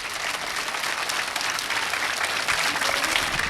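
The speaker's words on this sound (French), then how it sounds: "On applaudit encore très très très fort." Steady, dense applause from a sizeable crowd at a school ceremony, continuous and fairly loud throughout with no pauses.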